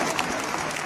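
A concert crowd at the Sacré-Cœur basilica claps in a dense, steady burst of applause lasting under a second, filling the space without pause.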